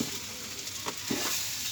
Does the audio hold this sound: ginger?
yes